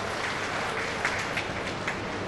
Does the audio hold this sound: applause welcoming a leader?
yes